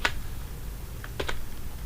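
A few scattered keystrokes on a computer keyboard while PHP code is typed, light clicks close by over a low background hum.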